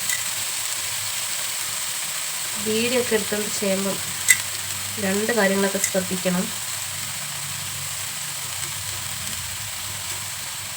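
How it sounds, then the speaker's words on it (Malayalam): Small fish fry in oil in a pan in a home modular kitchen, giving a steady, even sizzling hiss throughout, with someone talking over it in the middle. "എണ്ണ നമുക്ക് ഇടാം അപ്പോൾ മീനെല്ലാം വെച്ച് നമുക്ക് കുറച്ചുകൂടെ എണ്ണ ഒഴിച്ചെടുക്കാം"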